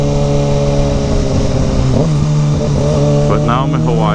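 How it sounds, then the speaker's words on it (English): A motorcycle engine drones steadily while riding in Hawaii, with a constant low hum and a slight shift in pitch midway, as someone talks over it. "I just got my motorcycle"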